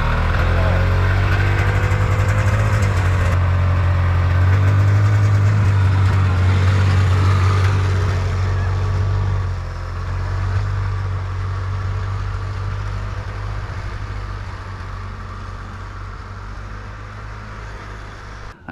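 Snowmobile engine running at a steady low idle in snowy blizzard conditions at an off-grid cabin, a loud continuous drone that eases slightly quieter toward the end, with no talking.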